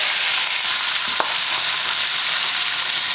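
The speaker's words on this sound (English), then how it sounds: "once your bacon starts to get nice and crispy, you can go ahead and add your pound of shrimp" A pound of shrimp hits a pan of crispy thick-cut bacon, setting off a loud, steady hiss of frying and sizzling that carries evenly throughout, with a faint clink of a utensil near the middle.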